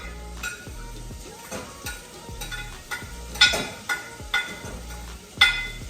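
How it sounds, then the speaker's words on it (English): Onions sizzling in oil in a pan, a steady fry hiss broken by repeated scraping stirs and clinks of a utensil against the pan, fairly close. "I know y'all hear it sizzling."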